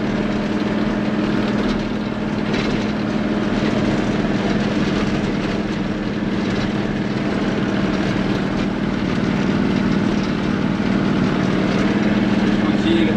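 A vehicle rumbles steadily over a corrugated dirt road on the way to a waterfall among volcanoes, with a continuous loud, rattling drone that never lets up.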